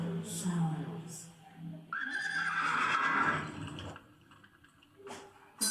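Horse neighing as the fairy queen's steed on a fantasy theme park ride, a whinny rising and falling near and moderately loud, between short chimes and a voice speaking.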